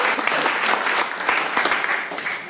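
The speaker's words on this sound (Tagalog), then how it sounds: "Palakpak naman dyan" Audience applause at a marketing presentation, a dense, steady wash of clapping hands that holds for the whole moment, with a faint voice underneath.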